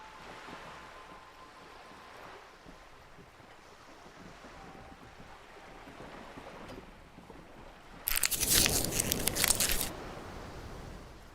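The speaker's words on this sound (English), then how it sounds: "The wind flaps the sail above her." In the Disco Elysium video game, a ship's sail flaps loudly in the wind for about two seconds near the end, rising over a quiet bed of wind and lapping water.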